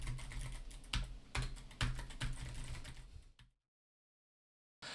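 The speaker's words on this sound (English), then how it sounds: "I will now continue to type without speaking so you can hear how much sound it makes or captures" Fast clicky mechanical keyboard typing, close and steady for about three seconds, with no talking, then the keystrokes stop and the clip falls to near silence.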